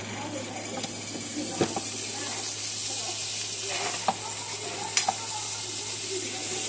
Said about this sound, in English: That's 2 tablespoons of chives that I have cooked in.